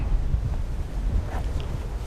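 Strong outdoor wind blowing ahead of a storm, a steady low buffeting roar against the microphone with no voices.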